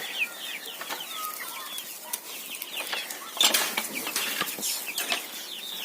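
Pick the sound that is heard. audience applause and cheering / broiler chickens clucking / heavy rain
broiler chickens clucking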